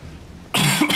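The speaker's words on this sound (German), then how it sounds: "Ich muss husten." A single sharp, close cough bursts out after a moment of near silence, loud and raspy with a short second push.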